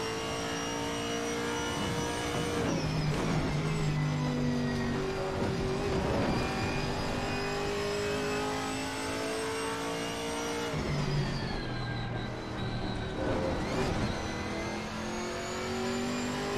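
A GT3 race car in a multi-class racing game roars past with rising and falling engine pitch, two distinct sweeps of revving engine noise, loud and close, with continuous car engine drone throughout.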